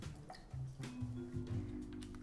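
A couple of dashes of liquid go into a Poet's Dream cocktail, heard as faint, soft drips and small splashes over a low background hum.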